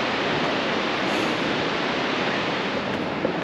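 A waterfall roars steadily in Hetch Hetchy Valley, Yosemite, heard up close as a dense, unbroken wash of falling water with no voices.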